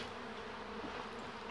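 A swarm of Apis honey bees gives a steady, faint, close buzzing hum that holds without a break for a short moment.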